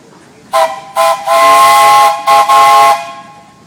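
A steam traction engine whistle at a steam engine show blows in a loud, close rhythm: two short toots, a long sustained blast, then two more blasts, with steamy hiss.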